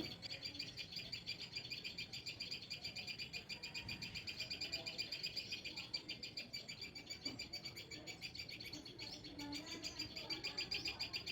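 A small red-tailed bird, not a sparrow, calls over and over in quick, high repeated notes, steady and fairly close, against quiet low background noise.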